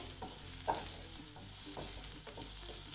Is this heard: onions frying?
yes